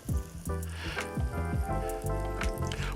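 Food sizzles in a litre of hot oil, the frying crackle steady and close with soft pops and bursts through the short stretch.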